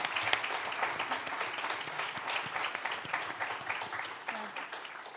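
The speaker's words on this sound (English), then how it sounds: "Another round of applause." An audience at an evening talk event breaks into a round of applause, a fairly quiet but continuous patter of many hands clapping through the clip.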